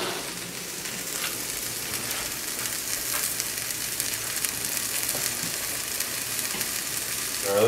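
Onions browning in a pan, a steady close crackling sizzle throughout with faint stirring, no voices over it.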